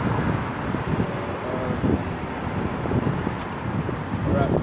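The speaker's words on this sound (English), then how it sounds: "it's a bit windy today up here" Steady gusting wind roaring against the microphone, a constant rumbling rush throughout with a faint voice underneath.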